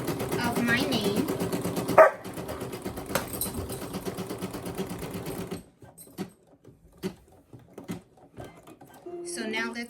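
An SE1900 embroidery machine stitching a knit hat gives a fast rhythmic mechanical whir for several seconds, then stops; a dog barks and scattered clicks and handling noises follow.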